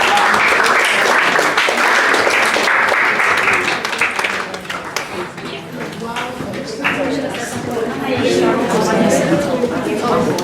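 An audience applauds contestants at an award presentation, a loud sustained burst of clapping that fades slightly midway and swells again, with a voice speaking over it.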